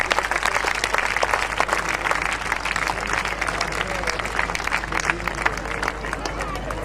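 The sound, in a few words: audience applause welcoming a guest to the stage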